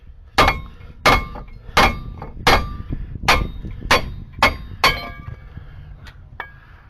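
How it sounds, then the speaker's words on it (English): About nine sharp metallic hammer strikes, ringing and slightly clinking, knock at a brake bracket on a Jeep WJ, evenly spaced at first and then quicker, each followed by a short metallic ring, close and loud. "we're going to hammer it out of there."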